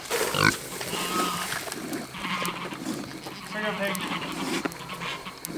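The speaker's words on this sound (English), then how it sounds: "We'll take care of these noisy pigs first." Pigs at evening feeding squeal and grunt close by in a busy, continuous chorus, with sharp high squeals rising over lower grunting and rustling, while a person talks over them.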